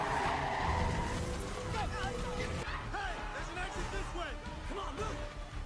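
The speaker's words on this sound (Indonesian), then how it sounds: "Mobil yang sedang balapan pun mulai bertabrakan yang membuat api semakin besar." Racing cars skid and crash on a race track in the film Final Destination 4. Repeated tire squeals chirp over a dense roar of engines and crowd noise, with someone talking over it throughout.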